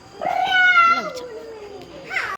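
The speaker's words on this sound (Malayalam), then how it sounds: "ഇതാണ് ഞങ്ങളുടെ സ്വന്തം പാഷൻ പൂച്ച" A single drawn-out cat meow, close and clear, followed by a short softer second call.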